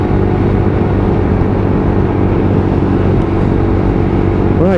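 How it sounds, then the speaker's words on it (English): A Lexmoto LXR 125cc motorcycle fitted with a Lextech exhaust can runs steadily close by, giving a loud, even, purring engine drone that holds without a break. "Loving the sound of this bike purring away. That's got a great tone to that exhaust for a 125,"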